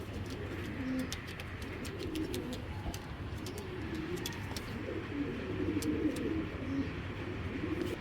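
High flyer pigeons, including Afsan, Girribaz and Afsan Baga breeds, coo steadily throughout, layered low cooing with occasional sharp chirps from other birds over a constant background hum.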